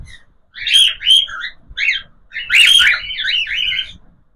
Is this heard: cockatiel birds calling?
yes